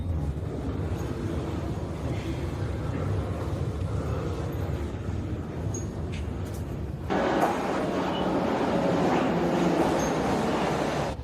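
A Russian metro train rolls along with a steady, loud rumble of wheels and car noise, which swells brighter and harsher partway through, with no voices.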